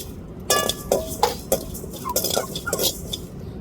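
Fennel, cumin and black pepper dry-roasting over a low flame in a kadai: a handful of close, intermittent scraping and light metallic clinks as a spatula stirs the spices against the pan.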